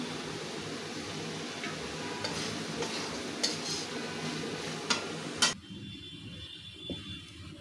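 Chickpeas tempered in a hot pan are stirred with a utensil, giving a steady sizzle with scattered scraping clicks and a sharp knock before the frying noise drops away; no talking.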